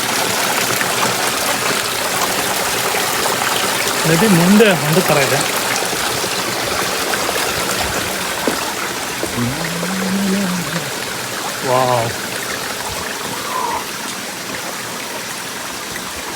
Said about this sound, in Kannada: ಚಿಕ್ಕ ಒಂದು ನದಿ ಇಲ್ಲಿ ಬಂದ್ಬಿಟ್ಟು ಆ ಮೇನ್ ನದಿಗೆ ಜಾಯ್ನ್ ಆಗುತ್ತೆ